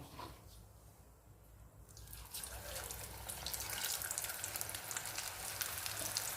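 A second batch of potato, onion and spinach pakoras drops into hot oil, the faint hiss swelling into a steady, loud bubbling sizzle that continues alone.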